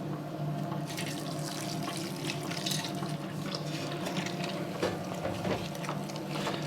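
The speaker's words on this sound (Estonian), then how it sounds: "Lisan natuke seda vett juurde." Water added to pizza dough in a running mixer, a steady pour and splash over a continuous mechanical whir with occasional small clicks, close and moderately loud.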